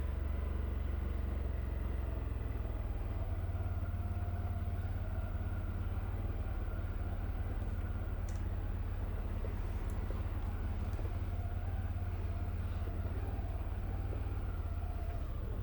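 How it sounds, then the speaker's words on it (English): 2025 Can-Am Outlander ATV creeping down a steep hillside on engine braking, a low, steady engine rumble held at even idle-like revs, moderately quiet and unbroken with faint rattles. "you'll see how good these 2025 Outlanders are with their engine braking systems"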